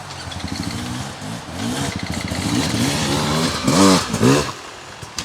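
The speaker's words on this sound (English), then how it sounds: "So Dan is first on the RRX Pro, already stalling it" A 2025 Beta RR X-Pro enduro motorcycle on a hard enduro course, its engine revving unevenly and rising in pitch with bursts of throttle, loud and close throughout.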